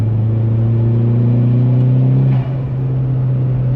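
Loud, close turbocharged engine of a Mk4 Volkswagen R32 with a cold air intake droning steadily while driving, a deep sustained hum that dips briefly partway through before carrying on.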